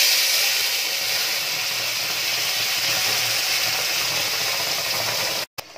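Paste of onion, garlic and tomato sizzling in hot mustard oil: a steady, loud, hissing crackle that holds evenly for several seconds, then cuts off abruptly near the end.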